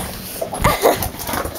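A dog whimpering and giving short yelps while playing rough with its owner in deep snow outdoors; a few brief, close, high-pitched cries in quick succession.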